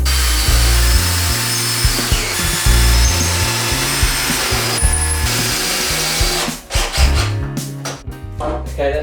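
A power drill drives hex screws into a rustic wooden workbench top made from recycled timber, a loud, close, sustained motor whine with pitch shifts. Rattling, clattering handling follows.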